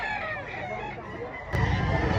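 A Kaya 5K sweater rooster crows loudly and close up, one drawn-out call over a noisy background of other fowl at a chicken market in Lipa, Batangas.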